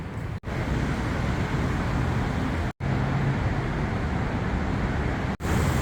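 Steady road traffic in Bangkok near Don Mueang, a dense broadband roar of passing vehicles and wind, loud and close, broken by three brief dropouts.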